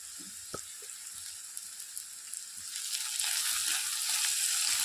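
Onions fry in a pan for a tamarind tamarind-style gravy, a steady close sizzle that swells louder partway through, with a few light clinks of stirring and no voices.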